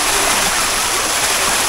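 Cold water pours down hard at a waterfall shower on an eco farm, a loud, even hiss and splash close up with no break, and a brief voice calls out over it.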